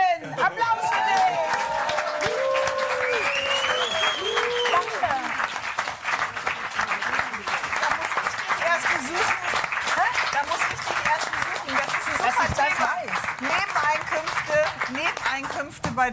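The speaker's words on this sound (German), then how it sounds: "Hans-Jürgen, Applaus für dich." A television studio audience on a late-night talk show bursts into sustained, loud applause, dense clapping that holds steady for the whole stretch, with some crowd murmur and a few voices mixed in.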